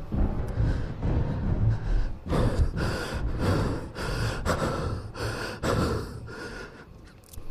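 A person gasps for air in a long run of loud, ragged breaths, each sharp inhale and exhale close and alone, repeating steadily.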